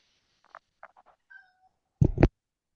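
A cat meows several times in short, soft, rising calls, followed by a louder, longer meow near the end, heard up close in an otherwise quiet room.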